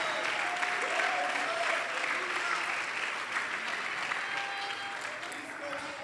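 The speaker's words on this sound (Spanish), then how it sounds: "Si va a aplaudir, aplauda al Señor fuerte, hermano, porque Él está aquí con nosotros." Sustained applause from a church congregation during a sermon, a dense steady wash of clapping that stays loud and even throughout, with faint voices underneath.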